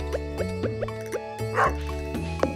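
A dog in Stardew Valley gives a few short, soft game-style barks and yips in a quick sequence, heard over light background music and farm sounds.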